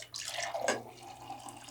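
Water pouring from an AquaTru countertop purifier's tap into a glass, a steady close trickle with faint splashing that runs alone for under two seconds.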